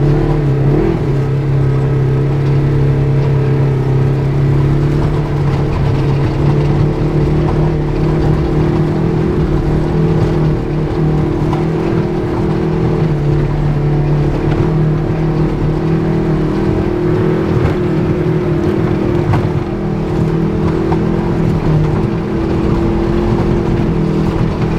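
An off-road vehicle rock crawling holds a steady, high-revving engine drone at a slow pace, loud and close, with slight shifts in pitch but no pauses over the long stretch.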